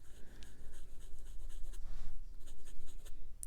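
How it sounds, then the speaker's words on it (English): A Jinhao Centennial fountain pen with a Cracked Ice finish and a slightly feedbacky nib writes on paper, producing a close, continuous soft scratching and rasping of strokes with no talk over it. "there is strangely a bit of feedback on this nib"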